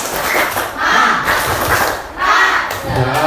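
A school class doing a rhythmic spirit clap, with bursts of group clapping and thumping alongside children chanting and shouting in unison, loud and close.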